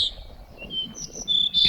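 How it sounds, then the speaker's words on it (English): Small birds call at high elevation in the Sierra near the California-Nevada border, heard as a few short, thin chirps and whistles over a quiet outdoor background. "I can hear the call of the sparrow, the flycatcher, the pinyon jay, and the nighthawks."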